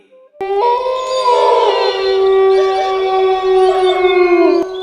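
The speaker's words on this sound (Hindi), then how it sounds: "थोड़ी देर चलने के बाद उसको कुत्तों के रोने की आवाज सुनाई दी।" Dogs howling in long, wailing, siren-like tones, several overlapping howls rising and sustained for a few seconds, loud and close, an eerie horror-story effect with no speech.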